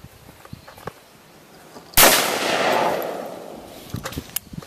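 A single loud over-under shotgun blast outdoors, a sharp crack followed by a long rolling echo that fades over a couple of seconds, with faint handling noises before and after.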